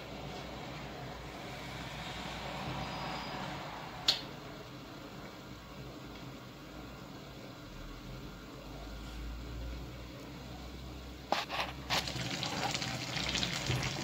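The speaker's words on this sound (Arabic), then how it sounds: "مادام يغلي، مادام يطلق هذاك لاصوص تاعو" Sardine tagine sauce simmering in a covered frying pan, a steady soft bubbling hiss throughout, with a brief clink near the start and some handling clatter toward the end.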